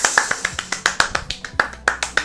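Hand clapping in celebration of a trading profit target reached: roughly ten sharp, close claps in a quick, slightly uneven rhythm, with no talk.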